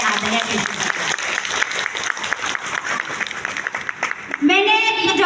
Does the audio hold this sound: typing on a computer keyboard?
no